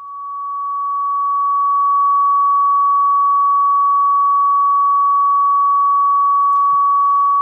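A pure sine test tone played through speakers holds one steady, loud, unwavering pitch for several seconds, with a faint click near the end.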